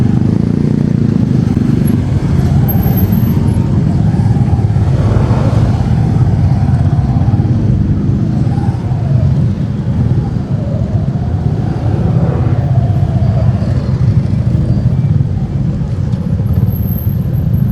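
Dense road traffic in a jam with school traffic, heard while riding a Suzuki Shogun 125 SP motorcycle: a steady loud rumble of engines and wind noise with occasional revving vehicles passing nearby.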